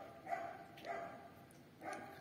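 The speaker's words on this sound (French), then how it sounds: "Il y a un chien qui aboie." A dog barks three times, faint and distant, in short separate bursts with quiet gaps between them.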